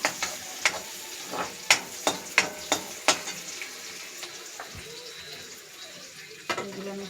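Chopped onion frying in a pan before greens go in, a soft continuous sizzle punctuated by a quick run of sharp spatula taps and scrapes against the pan, then quieter stirring.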